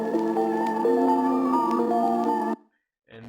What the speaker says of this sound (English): So the pad sounds like this also.